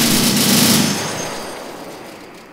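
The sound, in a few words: gunfire in the video game Men of War: Assault Squad 2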